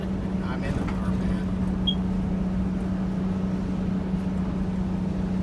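A GM 4106 bus engine pulls steadily in its power band, giving a continuous low drone with a constant pitch throughout, while people talk over it.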